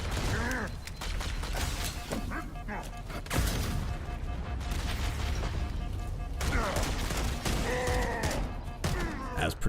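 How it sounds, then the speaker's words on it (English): Chaotic Halo firefight with grenade blasts and bursts of gunfire, loud and dense throughout, punctuated by heavy booms and clattering weapon sounds, with voices and game sounds mixed in. "Watch out for these nades!"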